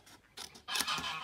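A few quick scissor snips, close by, growing louder, with crisp cutting and scraping sounds.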